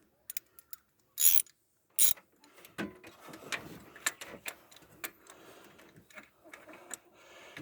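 A bolt is tightened with a ratchet wrench during removal of a Jeep engine, giving sharp bursts of clicking followed by quicker irregular ratchet ticks and light metal clatter, close up.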